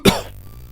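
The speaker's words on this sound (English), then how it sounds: "Excuse me while I cough." A single sharp, close cough from one person, quickly fading into quiet.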